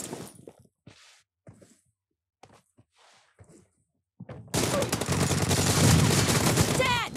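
Rapid gunfire from the video game PUBG erupts loudly after a few seconds of quiet voices, a dense burst of shots filling the second half close up.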